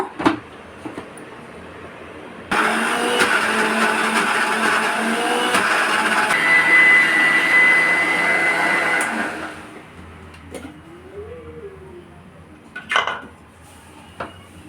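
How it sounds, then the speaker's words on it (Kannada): A kitchen mixer grinder whirs loudly and steadily for about seven seconds as it grinds drumstick leaves and lentils, then winds down, followed by a few scattered clatters of the jar and lid. "ಮಿಕ್ಸಿ ಜಾರನ್ನ ಕ್ಲೋಸ್ ಮಾಡಿಕೊಂಡು ಈಗ ಗ್ರೈಂಡ್ ಮಾಡ್ಕೊಳ್ಳೋಣ"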